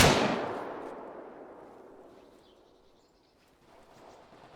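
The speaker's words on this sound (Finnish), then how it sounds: "Tähdättyä laukauksia." A single sharp gunshot in the World War II shooter Arma Iron Front, a loud crack trailing into a long fading echo, followed by faint distant background sound.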